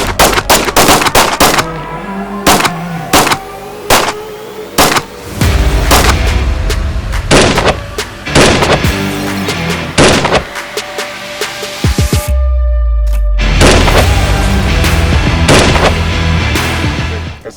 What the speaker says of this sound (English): Why don't we do one more mag of 10 or one of those 10 rounders, JP?